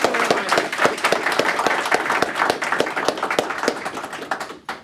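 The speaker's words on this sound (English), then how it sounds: "let's give one big last round of applause for Kristina" Audience applause at the close of a JavaScript meetup talk in Glasgow, a lively, close round of clapping from a small-to-medium crowd with crisp individual claps, lasting nearly five seconds before cutting off.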